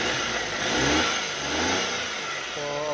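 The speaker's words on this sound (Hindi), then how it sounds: "अब हम गाड़ी को स्टार्ट करेंगे जी।" A car engine runs steadily after a spark plug wire repair, its mid-pitched rumble rising and falling as it revs, loud and close, with no talk over it.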